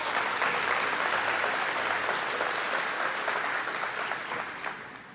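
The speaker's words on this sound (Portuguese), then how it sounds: "Você pode aplaudir a Jesus?" A church congregation applauds in praise, dense sustained clapping filling the room, loud and steady before tapering off slightly at the end, with no talking over it.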